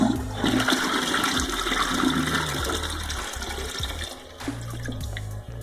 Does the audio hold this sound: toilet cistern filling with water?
yes